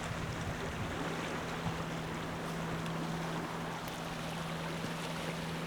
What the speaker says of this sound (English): Just film the ocean there.